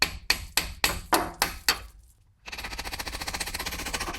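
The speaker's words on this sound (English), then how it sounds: "Now you can hammer one of the sides, typically the bottom side, to make this slide." A hammer strikes a brake caliper on a Toyota Corolla 2.0 D4D six times in a steady rhythm, sharp metallic whacks up close, followed by a continuous whirring mechanical rumble.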